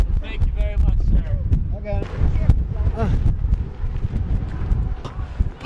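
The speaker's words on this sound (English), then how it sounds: "You can feel the pressure from the wind, like, rocking against this thing." Strong wind buffets the microphone in a steady rumbling roar, with voices talking intermittently over it.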